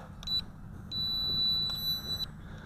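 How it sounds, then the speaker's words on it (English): Electronic beeps from an FQ777 mini drone camera: a short double chirp, then one long, steady high-pitched beep lasting over a second, with a quiet blip after it, heard close over a low background hum. "I am going to assume that long beep means the video camera is either activated or deactivated"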